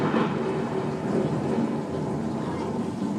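Simulated downpour from a stage show effect in the Carousel of Progress at Magic Kingdom, a continuous rushing wash of rain with a low rumble underneath.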